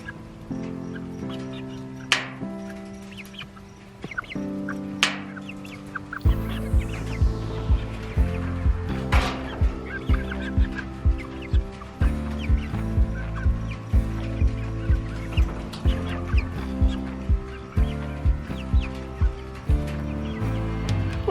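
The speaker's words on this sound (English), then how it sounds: "I'm gonna throw them to the chickens to see if they want them." Chickens cluck and gobble in a steady repeating chorus over a busy, full background, with sharp sounds now and then.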